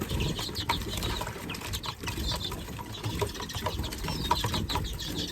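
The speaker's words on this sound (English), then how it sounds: "there's 12 or 13 young green finches in here" Young greenfinches in an aviary chirp continuously, a dense, steady chatter of many small calls at moderate loudness throughout.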